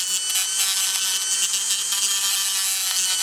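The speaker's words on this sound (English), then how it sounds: "I'll just grind those little bits off the axle here." Small bits being ground off the axle ends of a Hot Wheels 1995 Mazda RX-7 toy car: a continuous, close, high rasping grind with no pauses.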